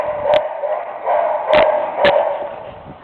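A puppy herding sheep gives three short, sharp barks over about three seconds, spaced irregularly above a steady outdoor background hum.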